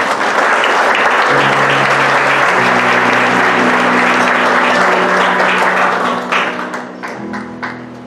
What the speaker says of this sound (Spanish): Den un aplauso al Señor, por favor.